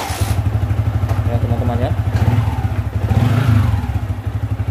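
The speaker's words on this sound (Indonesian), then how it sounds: "Saya akan engkol motor ini karena belum dihidupkan." A Yamaha Vixion motorcycle engine is kick-started after sitting unused for over ten hours, then idles with a steady rapid mechanical chugging and clatter, close and loud, while someone speaks over it.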